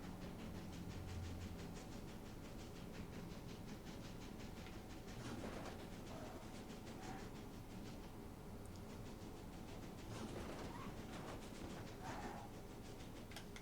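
Video game train racing against cars on a custom track in Disney Infinity, a continuous rumbling engine drone with rhythmic clatter, faint and steady throughout with no talk.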